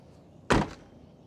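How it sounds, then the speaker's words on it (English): The door of a 2022 Ford Mustang Convertible swings shut with one solid, close thunk, followed by a short decaying rattle, and quiet surroundings before and after. "Checking the sound on the closing door on the convertible doesn't really do much purpose"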